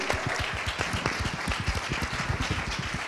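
An audience at a Bitcoin conference in El Salvador applauds, a dense patter of many hands clapping with some louder individual claps, fairly near and sustained across the moment.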